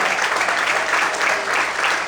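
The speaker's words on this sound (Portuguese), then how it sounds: "Quantos podem aplaudir e exaltar o nome dEle nessa noite?" Steady applause from a church congregation, dense clapping that fills the space evenly and holds at a constant level throughout.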